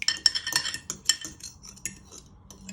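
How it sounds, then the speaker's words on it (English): A fork whisks egg in a bowl, making a run of quick, light clinking and tapping strokes against the side, close and clear, with no talking. "with a fork, you want to give it a good whisk"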